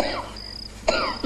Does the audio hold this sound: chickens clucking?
no